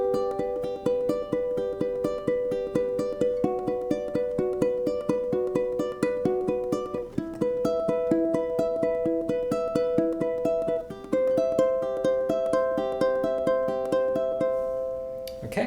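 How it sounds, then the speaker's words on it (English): Solo ukulele picks out a song intro, a steady repeating arpeggiated pattern of plucked notes with no bass or voice, clear and close for about sixteen seconds. "And the intro is just the uke."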